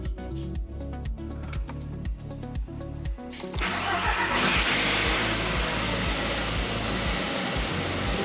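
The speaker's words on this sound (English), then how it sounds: "Starts with a rough idle." An Audi TT engine cranks with a rapid rhythmic starter chatter, then catches and settles into a loud, rough, uneven idle after alternator repair work.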